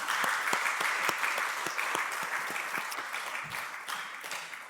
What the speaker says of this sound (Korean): 우리 박수하시겠습니다